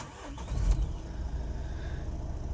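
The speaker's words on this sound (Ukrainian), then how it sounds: "давайте спробуємо завести наш автомобіль" A 2014 Opel Vivaro passenger van's engine cranks and catches close by, then settles into a steady low idle rumble, with no voices.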